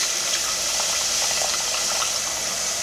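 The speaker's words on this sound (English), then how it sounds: "I'm just adding the juice from the canned meat first" Juice from canned meat poured into a pot of cooking food for baked taquitos: a steady close splashing, sizzling liquid hiss, continuous and alone.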